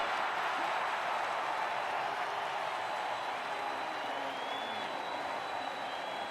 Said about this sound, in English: You hear the crowd going wild.